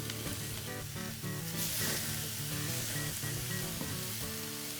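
Steak sizzling over charcoal inside a Weber kettle grill, a steady loud crackle and hiss with dense popping fat, continuous and close throughout with no talking.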